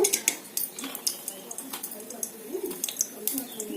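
Almonds and nuts tipped into ghee in a pan on a low stove flame, faint scattered clinks and light metallic taps of a spoon against the pan, with a person talking over them.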